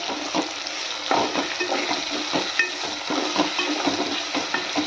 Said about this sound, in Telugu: ఉప్పు వేసుకొని బాగా కలిపేసుకుందాం